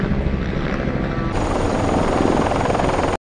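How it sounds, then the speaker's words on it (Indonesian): Two helicopters circle low while seeking a landing spot, a loud, steady rotor roar with whooshing wind that builds partway through and then cuts off abruptly at the end. "Zayeb melihat dua buah helikopter mencoba mencari tempat pendaratan"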